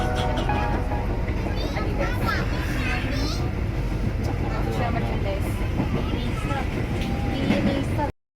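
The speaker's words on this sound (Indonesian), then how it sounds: "Dan saat lagi kereta api Cikuray akan tiba di kota Jakarta." Inside the Cikuray economy-class passenger train bound for Jakarta, a constant loud rumble and rattle of the moving carriage continues throughout, while passengers and children talk and chatter nearby.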